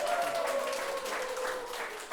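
Audience applause welcoming the director of a rhythm dance academy onto the stage, a steady dense wash of clapping that fills the whole stretch at even loudness, with a faint voice or tone running underneath.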